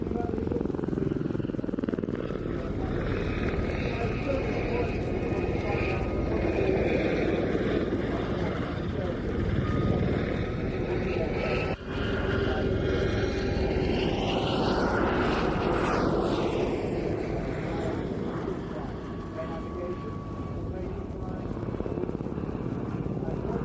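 A Royal Navy training and communications helicopter flown at the International Ayr Show air display, its steady rotor and engine drone filling the whole stretch with a pass swelling around the middle, heard under continuous commentary.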